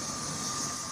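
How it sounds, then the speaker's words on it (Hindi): A helicopter arriving at a village gives a steady, loud broadband roar with a sustained engine whine, continuous and unbroken for the short moment. "उनको वहाँ से ननिहाल से यहाँ नीमड़ी लाने के लिए ये हेलीकॉप्टर आया है।"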